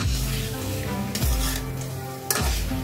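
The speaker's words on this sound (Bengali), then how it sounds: "এভাবে আমি 5 মিনিটের মতো কাঁঠালটা কষিয়ে নিব।" Jackfruit stir-fried in a pan for a curry with potatoes and lentils, a steady loud sizzle broken by a few scraping strokes of the stirring spoon, with no voices.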